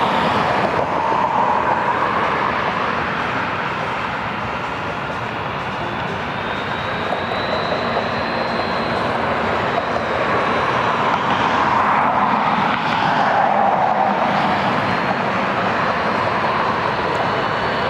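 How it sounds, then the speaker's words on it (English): UPS Boeing 757 taxiing at Cleveland Hopkins airport, a steady, moderately loud jet engine rumble with a faint high whine holding throughout, no talk. "UPS 1441 taxiing out for Louisville, Kentucky. Another 757."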